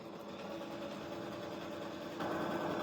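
A sewing machine running steadily while chain piecing quilt pieces, a quiet continuous mechanical hum and rapid stitching buzz up close that gets slightly louder near the end.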